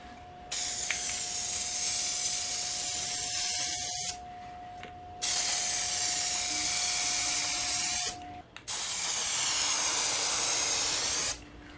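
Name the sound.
spraying Rust-Oleum Custom Automotive Clear on 3D printed parts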